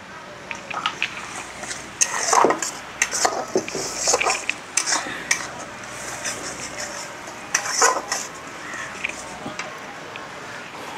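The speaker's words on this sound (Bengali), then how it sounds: "দইটাকে ভালো করে ফেটতে হবে তো আর কি" Yogurt being beaten hard in a bowl with a utensil, giving rapid, irregular clinks and scrapes that come in busy bursts, with crows cawing in the background and a voice speaking now and then.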